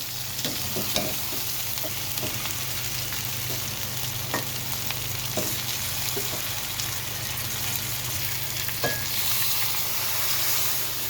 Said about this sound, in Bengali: অনেক সুন্দরভাবে এটাকে কষাইতে হবে, একদম ভাজা ভাজা করতে হবে